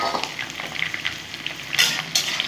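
Cut kakrol (spiny gourd) pieces hit a hot frying pan and sizzle steadily up close, with light stirring scrapes and a couple of louder crackling spurts.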